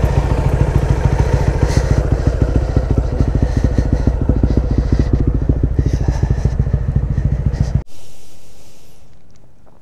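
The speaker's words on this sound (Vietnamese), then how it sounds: "Nhưng mà các bạn thấy nghe tiếng máy nè, đi một cái quãng đường xa vậy chạy rất là gắt." A motorcycle engine, run hard on a long trip to Da Lat, chugs close and loud with steady rhythmic firing pulses, then cuts off abruptly near the end, leaving quiet hiss.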